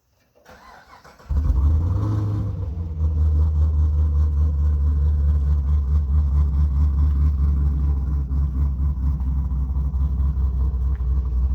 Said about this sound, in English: These cams have a nice, really choppy idle.